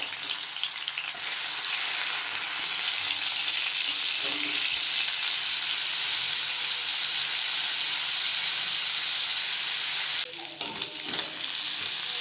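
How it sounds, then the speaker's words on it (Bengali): Shrimp frying in oil already used for frying lentils, giving a continuous dense hiss and sizzle close to the pan that stays loud and steady throughout, with no talking. "ভেজে রাখা ডালের তেলের মধ্যে এবার ভেজে নিয়ে নেব কিছু চিংড়ি মাছ।"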